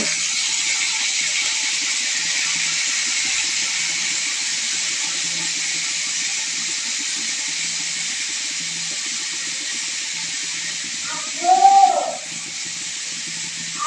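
Beans and potatoes dropped into hot oil with onions hiss in a steady, loud sizzle that holds throughout, with a brief clatter of stirring near the end.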